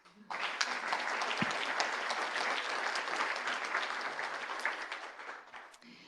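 Sustained audience applause at a world summit session on grassroots leadership in crisis negotiation, a dense steady clapping from a large crowd that starts abruptly, holds for several seconds, and tapers slightly at the end.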